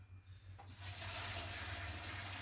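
Liquid is poured into a freshly cleaned distilling pot during bourbon making, starting after a quiet moment and then running as a steady, close gushing flow, with a low hum underneath.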